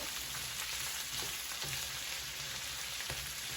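Potatoes, onions and green pepper fry in a pan, a soft continuous sizzle and crackle with scattered pops, fairly quiet and close, with no talking.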